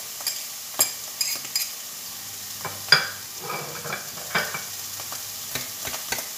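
Shallots and garlic added to a hot pan, a soft sizzle broken by intermittent utensil clinks and stirring taps, close and fairly quiet, no talking.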